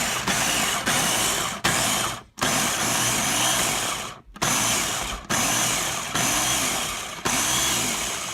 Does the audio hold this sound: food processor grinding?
yes